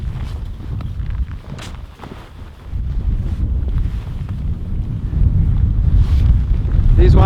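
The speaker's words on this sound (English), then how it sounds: "So the wind is coming from there." Strong wind gusts buffet the microphone at a winter tent camp site, a loud continuous low roar that swells and builds toward the end, with no clear talk.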